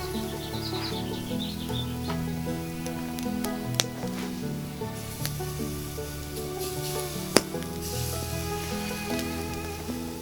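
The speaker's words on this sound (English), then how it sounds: "we're going to get these shanks out there on the fire, and we're going to give them a nice sear" Lamb shanks sear in black iron over a fire, giving off a soft, continuous sizzle with occasional sharp crackles and pops against a faint tonal background.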